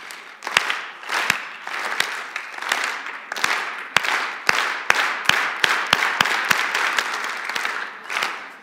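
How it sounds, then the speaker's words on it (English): A church congregation claps along in rhythm, each sharp, loud clap ringing out in a steady beat over a continuous bed of crowd noise for the whole stretch. "Just clap with my clap."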